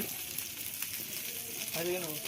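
Chicken frying on a roof tile over a village fire, a steady soft sizzle with light scraping as pieces are flipped, and a brief voice near the end.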